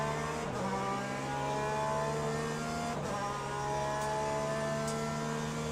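Race cars in the Le Mans Ultimate sim racing game at Spa, GTE and hypercar classes, drone loudly with a continuous high engine whine, pitch sweeping through gear shifts around the start and midway, no talking.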